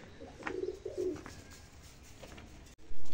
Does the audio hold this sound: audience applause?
no